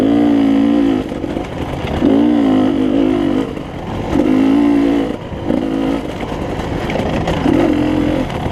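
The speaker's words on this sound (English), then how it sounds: "Showing a little bit of that two-stroke power." A two-stroke motorcycle at a Kansas off-road race near La Cygne revs hard in loud, close bursts, rising and dropping about four times as the rider accelerates and shifts.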